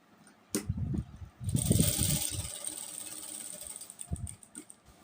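A sewing machine stitches kurti fabric in short bursts of rattling, whirring mechanical runs, with brief pauses between them and a final quick burst.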